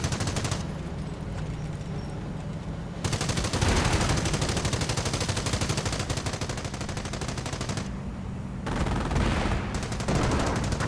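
Rapid bursts of battlefield fire and mortar impacts from a World War II strategy game match crackle continuously, loud and dense, with short lulls between heavier volleys.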